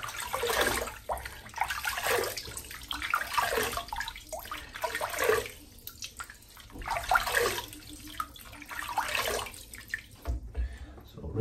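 Water splashing and pouring as a freshly shaved head is rinsed, several close bursts of running, sloshing water separated by brief pauses.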